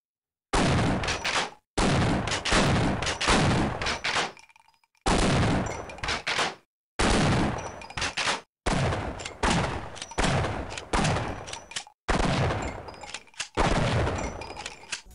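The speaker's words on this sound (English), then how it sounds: "the shotgun sounds badass and it looks a lot better" Shotgun blasts from Half-Life with HD models, each loud boom followed by a pump-like mechanical rattle, repeating about seven times at a steady pace.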